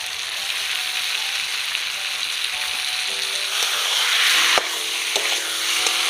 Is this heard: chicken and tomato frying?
yes